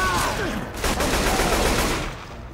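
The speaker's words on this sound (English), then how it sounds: "Quit shooting me, Nick." Gunfire in the zombie shooter Left 4 Dead 2, a dense burst of rapid shots mixed with game noise and a brief voice.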